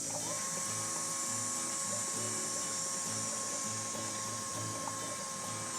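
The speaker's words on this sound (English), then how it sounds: "Turn our pump on." A small electric pump runs steadily for chilling home-brewed beer wort after the boil, making a continuous whine with a faint rhythmic mechanical pulse, close by and with no talking.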